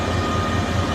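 A steady, close rumble with a faint whirring hum comes from the Kaduna-Abuja passenger train as it pulls out of Rigasa station, with no voices over it.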